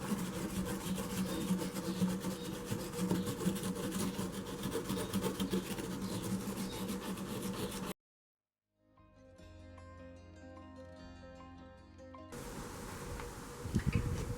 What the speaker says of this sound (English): scrubbing at the solder helps to bring the brightness down as well